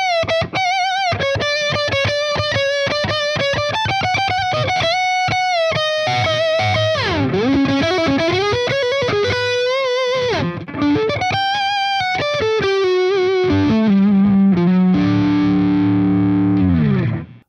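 Distorted electric guitar, a B.C. Rich Mockingbird Legacy ST played on the neck pickup: a rounded, thick tone through melodic single-note lines, bends and slides, ending on sustained chords, loud and alone.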